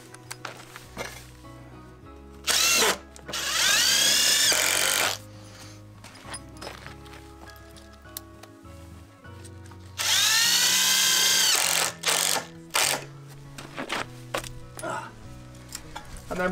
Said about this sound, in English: Putting these screws in.